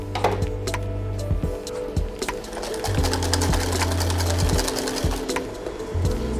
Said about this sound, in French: La moitié du sucre, le reste du lait, et on mixe avec les jaunes d'œufs.